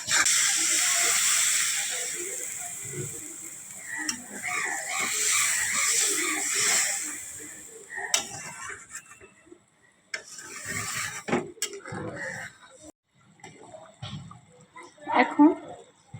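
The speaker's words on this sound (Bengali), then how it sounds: "ঝোলের জল ফুটে গেছে, এখন মাছগুলো দিয়ে দেব।" Fish curry broth boiling in a pot in a home kitchen: a steady bubbling hiss fills the first half, then fades into softer simmering with stirring clinks and a few scattered noises, while a person talks over it.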